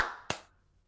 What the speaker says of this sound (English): let's just clap and keep going